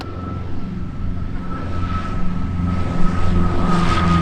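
A light RV aircraft on approach to runway 36 left at Oshkosh during AirVenture gives a steady propeller engine drone with a constant tone, moderately loud and unbroken, with no talk over it.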